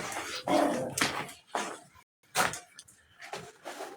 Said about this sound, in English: You hear my dog, she's pissed.